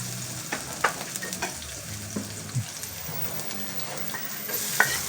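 Garlic and onions fry together in a pan for lechon paksiw, a soft continuous sizzle broken by occasional light stirring clicks and scrapes, close and fairly quiet.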